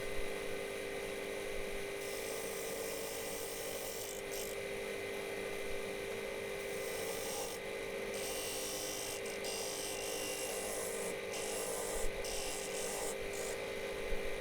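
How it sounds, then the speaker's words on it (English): Bog oak bowl spinning on a wood lathe as a tool cuts away its out-of-balance portions, a steady scraping rasp over a constant motor hum, with brief interruptions as the cut lifts. "I'm turning away the out of balance portions of the bowl"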